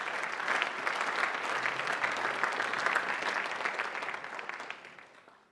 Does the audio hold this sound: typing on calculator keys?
no